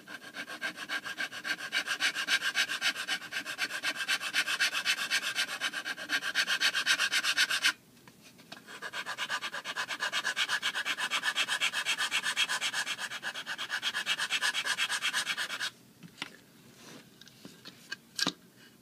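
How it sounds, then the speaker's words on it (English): Sandpaper rubbed against a small basswood block in long, steady, close scratchy strokes, pausing briefly midway, then a few short final rubs. "I'm just going to use a little bit of sandpaper to finish it off there"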